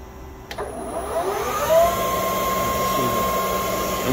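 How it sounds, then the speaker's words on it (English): A Harrison Alpha 400 CNC turning center with a 10-inch three-jaw chuck runs through a program, giving a steady mechanical whine with tones that rise as the spindle speeds up, after a short click near the start. "We're going to cycle this machine through."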